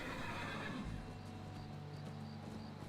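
A horse in the video game Skyrim gives a clear, fairly close whinny, with a few hoof clip-clops around it, and no talking over it.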